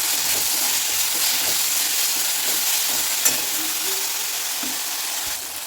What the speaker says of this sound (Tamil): தக்காளி நல்ல மைய வதங்கிடும்